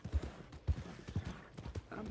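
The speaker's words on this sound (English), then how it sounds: "Uh-oh, horse is losing it." Horse hooves clip-clopping in the video game Red Dead Online, set in a town, as a run of soft, fairly quick thuds beneath game sounds and low voices.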